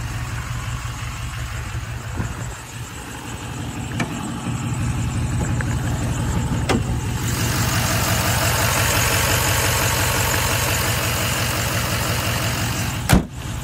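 A car engine idles steadily and close by, a smooth continuous hum with a few faint clicks and a soft rise in level partway through, with no voices.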